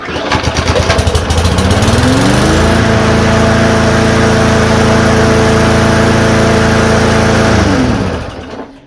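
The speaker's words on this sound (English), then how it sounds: "I bet she starts right up" A lawn mower engine recovered from the weeds sputters with a few quick pulls, catches and revs into a loud, steady close-up roar, then winds down and cuts off near the end.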